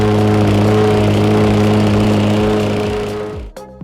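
A plate compactor pounds down hardcore for a koi pond base, its engine holding a loud, steady droning hum close by before cutting off abruptly near the end.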